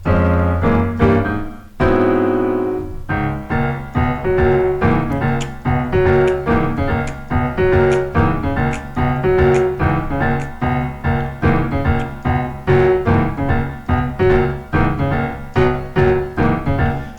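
Solo piano plays a bouncy, rhythmic Southern gospel pattern of repeated chords over a steady bass, loud and close, with no voices.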